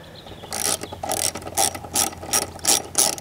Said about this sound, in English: A couple of bolts here which you want to remove.